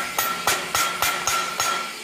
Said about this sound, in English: Simple tap with the ball peen hammer